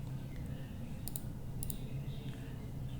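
Two pairs of quick mouse clicks sound while someone navigates a web portal, faint over a steady low room hum, with no speech.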